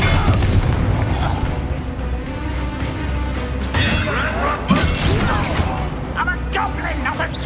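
Expelliarmus spell in Hogwarts Legacy during a combat scene, a dense, loud barrage of booming magical impacts and crackling bursts, with in-game voices over the effects throughout.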